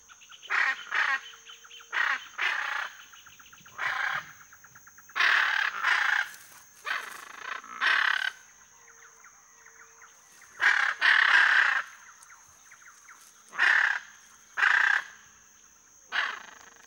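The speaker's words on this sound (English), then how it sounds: "This is the biggest parrot in the winged kingdom, the blue arara." A hyacinth macaw, the large blue parrot of Brazil, gives loud harsh squawking calls in irregular bursts, some doubled, separated by short quiet gaps against a steady high background hiss.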